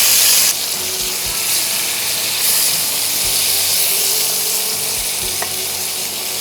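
Flat beans with salt and turmeric fry in a pan, giving a steady close sizzle with soft stirring scrapes throughout, no voices.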